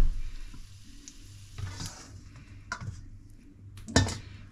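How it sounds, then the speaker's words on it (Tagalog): Turkey pieces sautéing in a pan, with a low sizzle under metallic scrapes and clinks of a utensil against cookware, including a sharper clank near the end, close and fairly quiet. "pa-fried na natin ang ating turkey. Igisa natin ang ating turkey."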